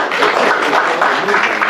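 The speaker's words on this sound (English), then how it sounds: "Let's give her a round of applause." Audience applause for a woman at a Veterans Day event, a dense steady wash of clapping from a crowd filling the whole stretch at fairly loud level.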